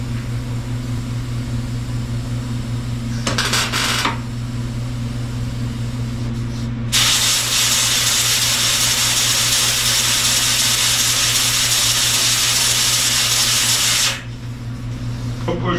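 A wire-feed welder laying a bead on the cab of a 1949 Jeep Willys pickup, with a loud, continuous crackling hiss for about seven seconds after a short earlier burst over a steady background hum.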